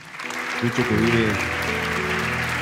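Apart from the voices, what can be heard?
audience applause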